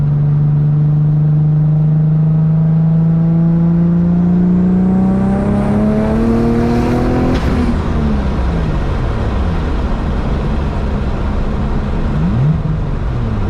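A 700 whp boosted Infiniti G35 accelerates hard in fourth gear, engine pitch rising steadily and loudly from inside the car before a sudden drop and a rough, noisy rush as the power cuts.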